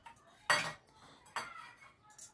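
Two spoon scrapes against a bowl while chopped coriander is mixed into a warm mashed spinach and green pea filling, each a short, close clatter followed by quieter rustling.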